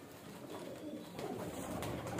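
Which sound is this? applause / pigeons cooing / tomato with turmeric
pigeons cooing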